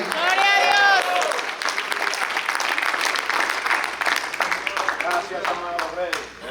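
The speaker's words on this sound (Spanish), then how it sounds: "Alguien que diga gloria a Dios mientras aplaude" A church congregation applauds during a sermon, a dense crowd clapping mixed with shouted praise. A loud voice rises over the start and cheering voices break through now and then.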